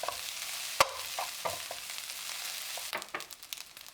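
Egg stirred with chopsticks in a pan alongside bacon fried rice gives a soft, quiet sizzle with light clicks and scrapes of the chopsticks, close and without talk.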